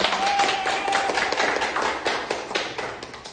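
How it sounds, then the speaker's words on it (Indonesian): A classroom group in a micro-teaching session applauds, a continuous burst of brisk clapping from several people that stays fairly loud throughout and tapers slightly near the end. "tepuk tangan dulu untuk semua"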